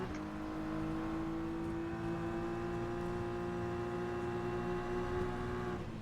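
BMW M4 GT3 race car running at Daytona in the rFactor 2 simulator, giving a steady sustained engine drone with a constant pitch, held loud and unbroken with no talk over it.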